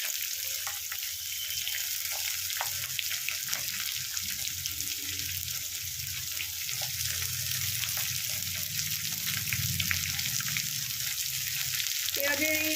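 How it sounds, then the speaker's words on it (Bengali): Thinly sliced onions fry in hot oil for a chicken jhol, giving a steady, close sizzle that runs throughout with small crackles on top. "পেঁয়াজগুলো ভালো করে ভেজে নেব।"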